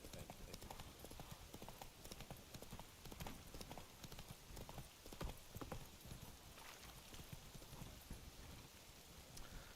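Roach the horse's hooves clip-clop steadily at a walk in The Witcher 3, a continuous rhythmic clatter under a busy game soundscape with light rain-like noise.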